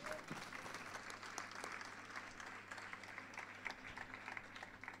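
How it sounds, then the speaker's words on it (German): Audience applause at a live acoustic concert at a fan evening, a steady wash of many hands clapping heard from a distance. Faint talk is mixed in with the clapping. "Wir freuen uns auf den nächsten Song mit einem donnernden Beifall."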